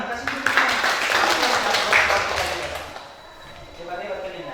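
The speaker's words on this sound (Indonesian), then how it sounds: "udah tepuk tangan, kasih tepuk tangan" A classroom of students claps together, a burst of fairly loud mixed clapping that fades away after a few seconds into quiet room noise.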